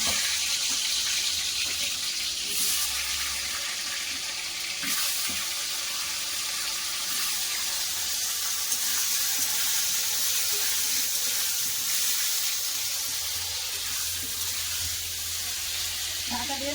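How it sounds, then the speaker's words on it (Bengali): Potatoes for a meat curry fry in hot mustard oil, producing a continuous, close, hissing sizzle that stays fairly even throughout. "তেল গরম হয়ে গেছে এবার আমি আলু দিয়ে দেব"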